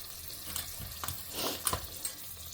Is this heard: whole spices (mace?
yes